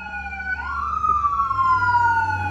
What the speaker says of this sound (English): Just the ambulance.